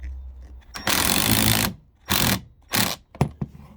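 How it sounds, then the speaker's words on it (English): A power driver drives 1-inch tapered screws into wood on an RV slide-out, with four whirring bursts of varying length, the first and longest at close range, separated by short pauses. "we're just putting these 1-inch tapered screws in to hold that in"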